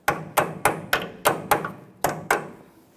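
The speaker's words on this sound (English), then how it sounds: "Tap it down with a hammer." A hammer taps a crow's foot wrench down onto a power steering pressure line fitting on a Nissan Frontier, eight sharp metallic knocks in a quick, slightly uneven rhythm, close and clear.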